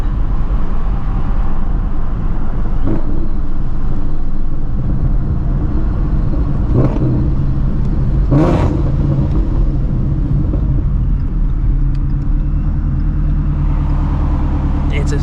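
A Ford Shelby GT350 runs alongside a Corvette in a street race, heard as a loud, steady engine and road roar from inside the car, with a few brief sharper spikes and no clear rising acceleration sweep.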